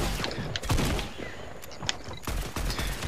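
Gunfire in Fortnite: bursts of rapid shots mixed with single loud cracks, close and dense, running through the whole stretch with game noise underneath.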